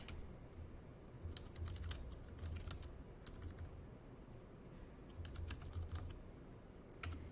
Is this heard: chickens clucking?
no